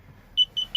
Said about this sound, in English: turn it on and let it go through its self-check, and when it stops beeping, then you can use it